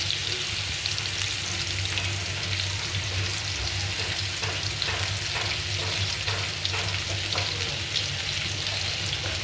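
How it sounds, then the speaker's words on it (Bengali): Onions frying in oil in a wok give a steady, close sizzle with faint crackles and a few soft stirring scrapes, heard alone without talk. "পেঁয়াজটা ভাজা ভাজা করছি"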